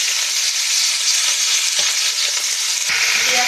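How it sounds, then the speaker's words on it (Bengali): Onion and green chilli sizzle steadily in hot oil with a tempering of nigella seeds, a dense continuous crackle close by, with a brief stir or clatter near the end. "পেঁয়াজটা কাঁচা লঙ্কাটা একটু ভাজা ভাজা হয়ে গেছে।"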